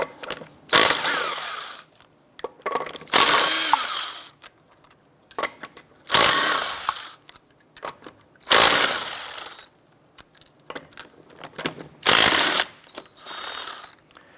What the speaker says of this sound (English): we're going to go ahead and remove our lug nuts